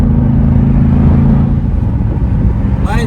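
A Ford Mustang GT California Special 60th Anniversary Convertible with a 5-liter V8, its engine giving a loud, deep, steady rumble while driving, with a faint rising tone at the very end.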